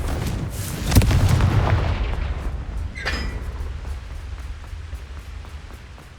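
Confringo explosive spells from Hogwarts Legacy gameplay go off as a loud boom followed by a long rumbling crackle, then a second sharper burst, with the roar slowly fading afterward.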